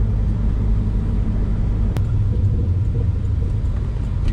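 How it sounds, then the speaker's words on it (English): A 2005 C6 Corvette engine rumbles low and steady from inside the car, with one sharp exhaust pop on a downshift partway through. "The exhaust's got a nice pop to it when I downshift."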